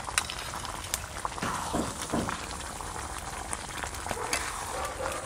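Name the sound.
stirring chicken kosha as the water cooks off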